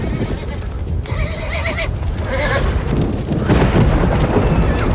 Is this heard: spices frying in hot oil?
no